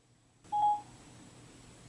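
A single short electronic beep from setting an alarm clock for an early wake-up, clear and fairly close, followed by a quiet room hum with no talking.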